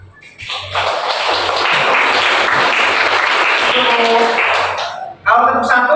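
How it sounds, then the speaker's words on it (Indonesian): A group of students claps together in a classroom concentration exercise, a dense burst of clapping lasting several seconds, then a few sharper single claps, with voices at the start and end. "Tepuk tangan."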